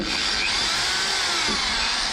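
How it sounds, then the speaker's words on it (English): A power drill whines continuously up close, boring into wood with a steady high-pitched buzz and slight changes in pitch. "So now I'm drilling holes for the shelves,"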